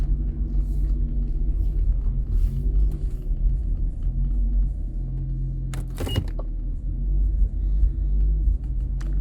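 A Jaguar XJS idles with a deep, steady engine rumble in a garage after a rough test drive stuck in first gear, loud and continuous, with a brief sharp clatter partway through.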